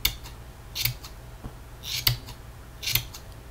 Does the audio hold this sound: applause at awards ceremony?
no